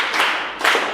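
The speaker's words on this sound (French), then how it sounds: "nous pouvons applaudir pour nous-mêmes" Brief applause from participants at a training session on migrants' rights in Sikasso, Mali: two quick bursts of clapping, fairly close and moderately loud, lasting about a second with no speech.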